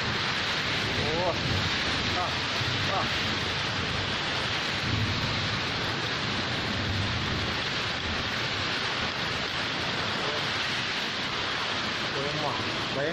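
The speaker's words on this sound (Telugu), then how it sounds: "ఇంత గాలి ఎప్పుడు చూడలేదు" Violent storm wind roars across an outdoor spot in B. Kodur mandal, Kadapa district, where trees were brought down; loud, continuous buffeting hits the microphone, with rain-like hiss and faint voices underneath.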